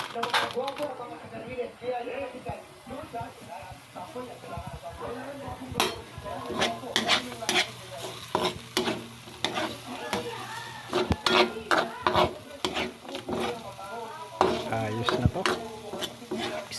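Cooked rice is stirred into a frying pan, giving a scraping, clattering stir over a soft sizzle, with clinks of a utensil against the pan. A person talks over the cooking.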